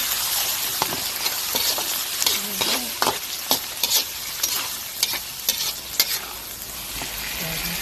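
A kilo of chicken intestines frying in a pan for adobo, a loud, close, continuous sizzle punctuated by frequent clinking and scraping stirs of a utensil against the pan.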